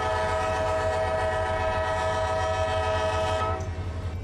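A CSX freight train horn in the Run8 Train Simulator game blows one loud, continuous blast under the low rumble of the rolling train, and it drops off near the end.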